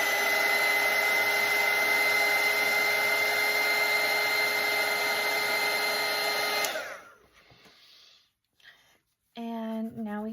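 Hair dryer drying watercolour paint, heard as a steady, loud blowing whir for several seconds that then shuts off and winds down, followed by near quiet and a brief voice at the end.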